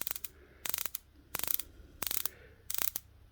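Tudor Black Bay 60-click aluminium bezel turned by hand, giving five quick bursts of crisp ratcheting clicks separated by short pauses, close and fairly quiet.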